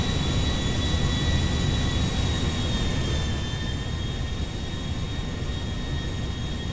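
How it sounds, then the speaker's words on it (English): Embraer E175-E2 jet climbing after takeoff in GTA 5, a loud, steady engine roar with a thin high whine running the whole way through, alone with no talk. "V1 and rotate. Okay, that was a terrible takeoff."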